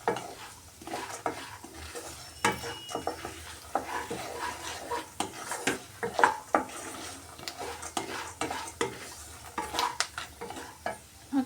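Ingredients for a flattened rice (atukula) mixture fry and get stirred in a pan, with soft sizzling and repeated scrapes and clinks of a spoon against metal, close and moderately quiet, with no talking.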